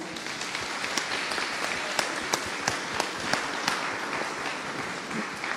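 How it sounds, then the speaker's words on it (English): Audience applause after a restorative practices panel discussion, steady dense clapping spread across a room at moderate distance, lasting several seconds with a few sharper individual claps standing out. "Let's give them a round of applause."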